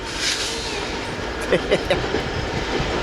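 Freight locomotives running light with no cars roll past on the line at Cajon, giving a broad steady rumble with a few rhythmic wheel clicks, while a voice cuts in briefly.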